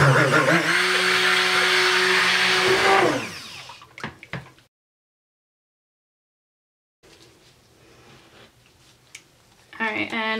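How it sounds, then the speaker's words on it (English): A stick blender whirs loudly for about three seconds while mixing soap oils and lye water, winds down, then brief clatter, a silent gap, and faint handling sounds before a short buzz returns. "So I'm going to mix these up with my stick blender"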